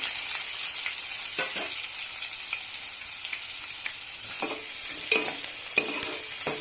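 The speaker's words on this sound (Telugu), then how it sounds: "ఇలా గోడ వరకు ఫ్రై చేసుకోవాలి." Chopped onions fry in a pan with cinnamon and chilli for Hyderabadi mutton keema, a steady close sizzle broken by repeated stirring scrapes, with no voices.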